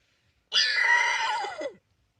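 A boy imitates a mare's neigh with his voice, giving one loud whinny just over a second long that wavers and drops in pitch at the end, close and alone against silence.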